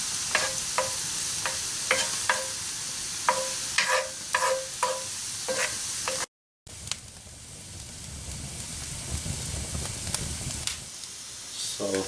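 Chopped shallots for a ground bison meat pie filling simmer and sizzle softly in a pan, with repeated close scrapes and taps of a spoon stirring through the steady frying hiss.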